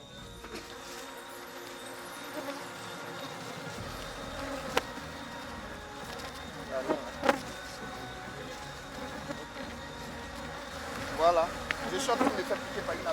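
Bees buzzing around an open beehive at an agroecology training camp in Benin, a steady insect drone with occasional louder passes close by, while people talk nearby.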